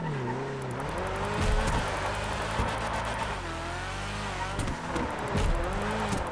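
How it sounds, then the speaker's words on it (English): Tires squealing on a Mazda RX7 (ZR350) drift car in GTA Online, long wavering screeches and engine revving as the car slides, with someone talking over it throughout. "super drift suddenly coming together for me again"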